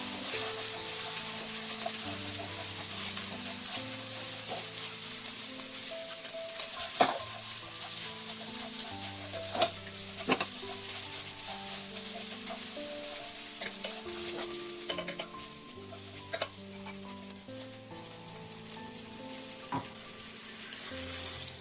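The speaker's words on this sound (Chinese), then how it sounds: "下入猪肝快速滑熟，通常变色略有少量红色即可倒出。" Pork liver slid quickly through hot oil in a preheated wok, a steady sizzle with scattered clacks of a utensil against the pan, sitting under a faint background musical hum.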